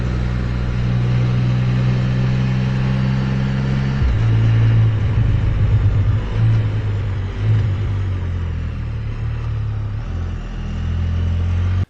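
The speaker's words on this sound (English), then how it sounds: "that's the last little run on the Spyder for 2020" Can-Am Spyder F3 Limited three-wheel motorcycle engine idling steadily close by, a deep low rumble that shifts in tone partway through as it revs slightly, then settles back to a constant drone with no talking.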